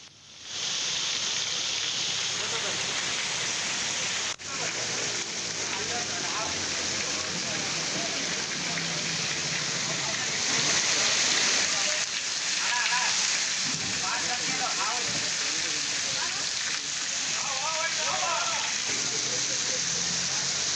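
Heavy monsoon rain pours steadily in Koppal district, a dense continuous hiss and patter that lasts throughout, with a faint voice now and then under the downpour.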